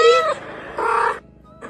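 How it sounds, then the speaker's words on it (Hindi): A cat meows loudly and close in a kitchen, giving two drawn-out cries separated by a brief pause, with a faint third start at the end. "बिल्ली देखो बिल्ली"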